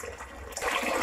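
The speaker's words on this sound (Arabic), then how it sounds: "شايفين الحلة تحت الحنفية والمية شغالة اهو" Tap water pours from a kitchen faucet into a cooking pot, a steady rushing splash that swells louder partway through as the stream fills the pot, close and alone.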